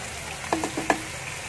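Chicken cincalok, made with fermented baby shrimp, sizzles and fries in a pan over a fairly high flame while a utensil stirs it, giving a few soft scraping strokes over a quiet, steady crackle.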